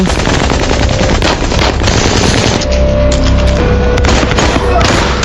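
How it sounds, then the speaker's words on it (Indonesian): Rapid gunfire from an action film fight scene, with loud bursts of shots and heavy booms over a dense, continuous mix of score and effects; no clear speech. "Ryan menghabisi anak buah Yanto dan berhasil menembak kedua kaki Yanto"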